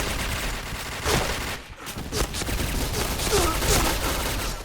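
MP5K submachine gun fired in a game, with bursts of rapid gunfire spread across the clip along with scattered shots and some faint background voice.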